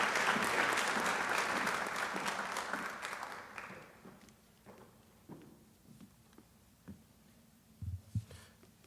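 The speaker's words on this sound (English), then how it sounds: "we can give her a round of applause" Audience applause at an honors night fades out from a full burst to scattered claps, followed by a few isolated thumps and footsteps in a quiet hall.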